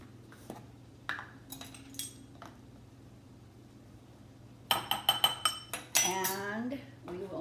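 Spoon clinking against a bowl as chili spices like onion powder and garlic powder are mixed, a burst of quick metallic taps after a quiet stretch, followed by a person talking.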